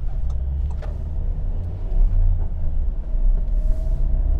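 Diesel engine of a van, a VW Caddy or Nissan Townstar, droning low inside the cabin while driving and accelerating, a steady rumble that swells slightly midway with faint road noise.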